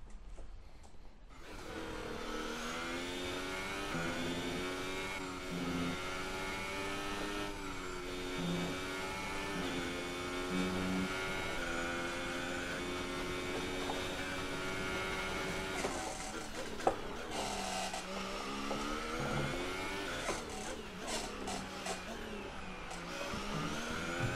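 A Formula 1 race car engine in F1 2018 screams in a high, whining tone that climbs and drops through gear changes, steady and prominent, with someone speaking German faintly at times.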